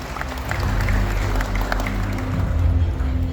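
Applause from an audience at an Indonesian investment commitment event in Banten, moderate clapping under a low background hum, fairly steady for a few seconds.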